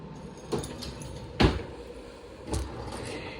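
A kitchen drawer holding coffee pods and tea bags is pulled open, giving a few soft slides and knocks in a quiet room, with one sharper thud in the middle.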